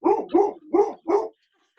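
A dog barks four times in quick succession, deep and close, then falls silent.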